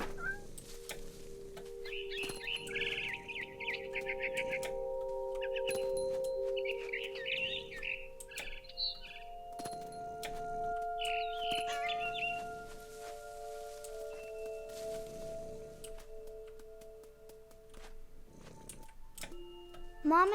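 A frightened barn swallow chirps in What Remains of Edith Finch, with bursts of quick, high tweets recurring over a steady game score and soft ambience, then fading toward the end.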